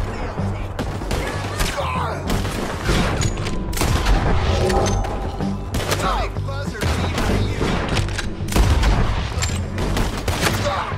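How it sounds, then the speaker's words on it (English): Gunfire crackles through a shootout in the video game Red Dead Redemption 2, with rapid overlapping shots and booms going on without a pause at loud volume, and a voice talking in among them. "I'm kinda used to playing as Arthur in a gunfight like this."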